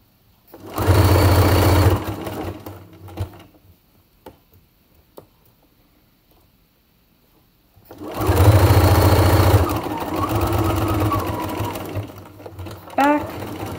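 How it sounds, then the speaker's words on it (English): A sewing machine stitches fabric for a pair of shorts, humming in two loud, steady runs, with a quiet pause between them filled by faint ticks and clicks. "Yes, I just sewed over a pin."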